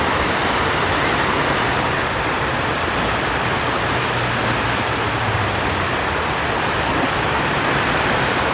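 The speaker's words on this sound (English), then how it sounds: "It is raining all around us apart from us." Rain falls nearby during an open sea-fishing match on the Redcar and Cleveland coast, a steady broadband hiss that stays even and continuous throughout, with no voices.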